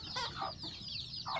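Chickens of mixed breeds, including kampung, Bangkok, walik, serama and kate, cluck softly in a coop, giving a few short, quiet calls over a low background.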